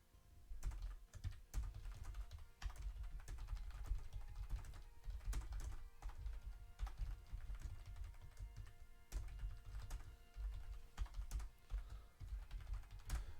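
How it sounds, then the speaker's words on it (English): Fingers tap a computer keyboard in steady bursts of clicks, close and fairly quiet, with short pauses between runs of keystrokes and no talking. "I'm terrible at typing out tags while chatting."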